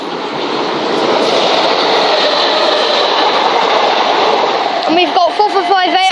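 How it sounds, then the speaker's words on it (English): Two trains pass at once at Brockley on the Brighton Main Line, a loud, close roar of rushing wheels and clatter that swells in the first second and holds, with a voice speaking over the final second. "we've got 2 trains coming at once"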